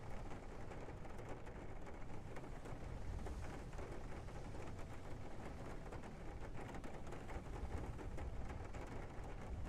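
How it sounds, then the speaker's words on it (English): Rain in a video game, a steady wash of hissing patter that stays even and continuous throughout, with no voices. "You can hear the rain."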